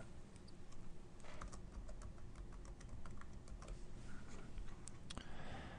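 Quiet, rapid tapping of a computer keyboard as a password is typed during Windows client software installation, a close run of light key clicks with brief pauses.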